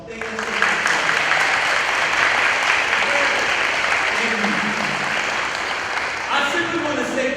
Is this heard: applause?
yes